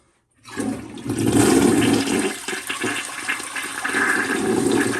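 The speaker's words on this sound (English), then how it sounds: "So now we're gonna let all the water go from the reservoir." A toilet being repaired for running flushes with a loud rush of water that starts abruptly and keeps gushing and swirling until the end.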